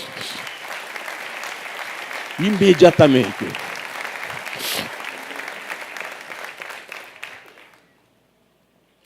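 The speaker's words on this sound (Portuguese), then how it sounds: "Pode aplaudir o Senhor?" A church congregation at a celebration service breaks into warm applause that swells after a preacher's spoken line, then fades gradually, with his voice continuing over the clapping before the sound drops to silence.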